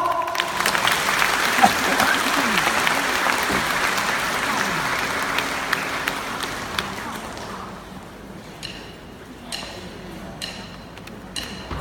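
Audience applause greeting a People's Artist singer taking the stage at a 2018 Vietnamese live concert, a dense steady wash of clapping that gradually thins and fades toward the end.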